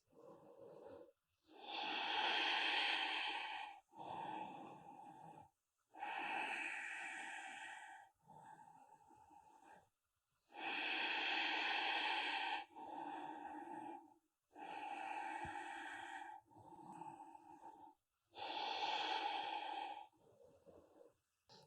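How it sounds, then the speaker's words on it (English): Slow, deep breaths during a yoga core strength exercise, long audible inhales and exhales alternating in a steady rhythm, close and clear with short pauses between them. "breathing out to lower, breathing in to lift"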